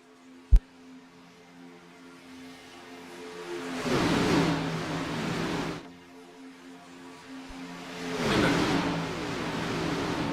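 Race cars accelerating at Daytona in a racing video game; two engine surges rise and fade several seconds apart over a steady engine drone, each opened by a sharp click, with no talking.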